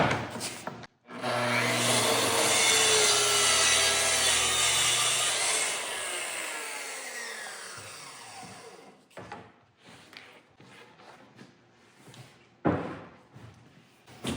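A track saw cutting through a butcher block countertop, a loud sustained whine of the blade biting wood for several seconds, then winding down, followed by scattered knocks and handling sounds.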